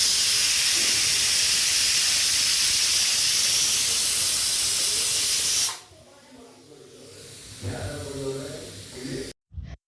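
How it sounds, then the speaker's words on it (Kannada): A pressure cooker cooking egg biryani vents a loud, steady steam hiss for several seconds, then cuts off abruptly, leaving quieter kitchen sounds and a brief voice before a short final burst. "ನೆಕ್ಸ್ಟು ಕುಕ್ಕರ್ನ ಕ್ಲೋಸ್ ಮಾಡಿ ಸುಮಾರು 1-2 ವಿಸಿಲ್ ಹಾಕಿಸ್ಕೊಳ್ಳೋಣ ಫ್ರೆಂಡ್ಸ್."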